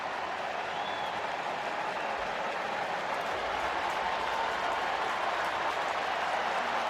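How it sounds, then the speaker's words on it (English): Football fans in a packed stadium applaud and cheer at a Manchester City versus AC Milan match as Christian Pulisic comes on as a substitute, a steady, dense roar of clapping and crowd noise sustained throughout. "The applause isn't so much for Bucani, for this man here."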